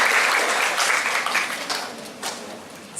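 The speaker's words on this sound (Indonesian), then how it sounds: "Tepuk tangan untuk Bapak Janito." Audience applause for a guest speaker, a senior lecturer, at a university communication studies event in Indonesia; broad clapping starts loud and slowly tapers over a few seconds with no voices on top.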